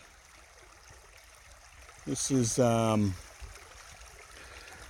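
A creek flows in a steady, broadband rush that continues throughout, with a person talking briefly near the middle.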